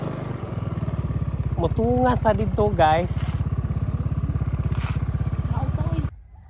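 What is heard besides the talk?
motorcycle riding up a peak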